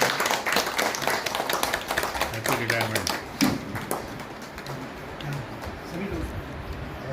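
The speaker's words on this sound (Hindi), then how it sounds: "जोरदार तालियों के साथ" Applause at a farewell ceremony for a chief administrative officer: brisk, fairly close clapping from a modest group, strongest at first, then thinning out, with a voice talking over it.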